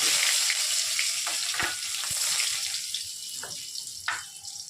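Chopped garlic hisses and sizzles steadily in hot oil, with a few soft clinks and scrapes of utensils against the pan.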